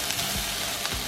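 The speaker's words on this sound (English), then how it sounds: "In the beginning, on high flame, see it start frying a little bit." Chopped onion frying in a pan on high flame, a steady close hiss and crackle of sizzling that continues without pause and with no voices.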